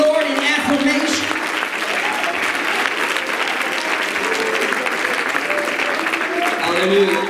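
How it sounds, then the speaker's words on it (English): A church congregation claps hands together in loud, continuous applause during a worship service, a dense steady wash of clapping from a large crowd with faint voices mixed in. "Why don't you clap your hands to the Lord in affirmation?"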